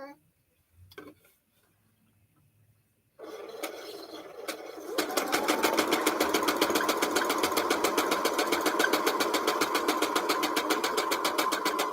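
A sewing machine making an odd noise starts up and runs continuously with a fast, rapid mechanical rattle and clatter, preceded by brief handling noises.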